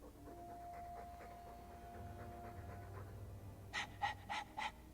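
Soft, even panting from a dog in the video game Dragon Age II runs under a low hum, then ends with four louder, sharper breaths or huffs close by.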